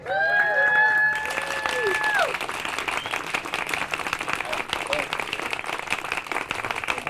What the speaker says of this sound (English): Please make it as loud as you're legally able to for Mike Armstrong.